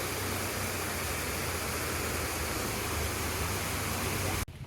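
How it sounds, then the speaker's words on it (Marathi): A monsoon waterfall at Matheran roars as a dense, constant rush of falling water, loud and close, that cuts off abruptly at the end. "इथला पहिला धबधबा लागला आहे मस्त."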